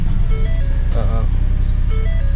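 A 2018 Ford F-150 with a 3.3L V6 engine runs rough at idle, a steady low rumble with a faint vibrating hum that stays constant throughout, while a person speaks briefly over it.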